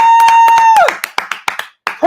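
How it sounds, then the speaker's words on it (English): A steady electronic tone gives way to a scattered run of sharp hand claps, irregular and close, with gaps between bursts, as an applause sound for a guest's introduction on an interview show. "We need an applause button."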